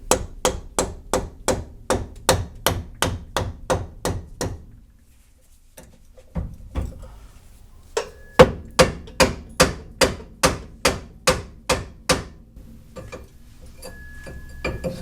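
A hammer whacks at parts of a second-generation F-Body car's front end in fast, evenly spaced metallic blows, loud and close, with a short pause midway before another run of strikes.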